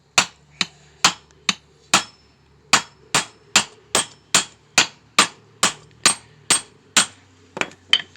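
Sharp metallic hammer taps on a bushing sleeve of a Ford Ranger's suspension, about fifteen strikes in a steady rhythm with brief pauses, each ringing briefly, close and loud.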